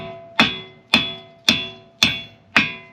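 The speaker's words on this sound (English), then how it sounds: "you're going to want to get a hammer and something that'll fit that" Five sharp metallic hammer strikes punching out a broken wheel stud land at an even pace about half a second apart, each ringing briefly before the next blow.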